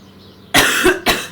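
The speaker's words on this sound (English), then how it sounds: "This cough is officially an outtake." Two sharp, loud coughs close to the microphone, the first heavier and slightly drawn out, the second short, following a moment of quiet room tone.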